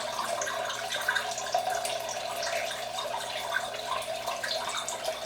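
Water runs steadily through an aquaponics bell siphon, a continuous soft gurgling and trickling flow at low volume, close by and without talk.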